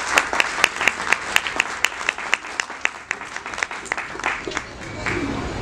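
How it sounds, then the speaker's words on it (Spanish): An audience at a book presentation in a bookshop breaks into applause: dense, steady clapping with many sharp individual claps, close and lively, holding for several seconds before thinning out at the end. "Los recibimos con fuertes aplausos,"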